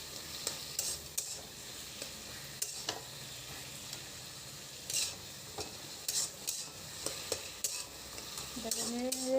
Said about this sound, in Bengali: এটাকে নেড়ে নেড়ে ভালো করে এটাকে থেতলে নেব।